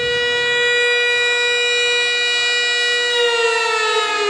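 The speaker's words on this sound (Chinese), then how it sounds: "警报声再次响起，" An air raid siren wails steadily in Nanjing on a day of remembrance, one long sustained tone that swells slightly near the end, loud and alone.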